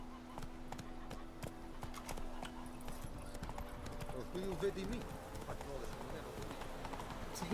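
Roach, a horse in The Witcher 3 video game, gallops with steady rhythmic hoofbeats in an open field, clear and continuous beneath game music, with a voice speaking over it.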